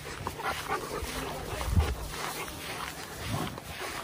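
A dog being chased out of a garden gives a couple of short, low, gruff bursts, like a growl or bark, over a steady outdoor background.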